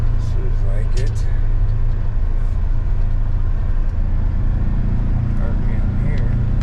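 Polaris Ranger UTV engine droning steadily in high range on a muddy ride, a low, constant rumble close by, with a person talking briefly over it.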